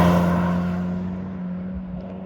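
A cheap hot hatch with a standard airbox gives a brief burst of engine induction and exhaust noise, a full mid-low drone that starts loud and steadily fades over about two seconds.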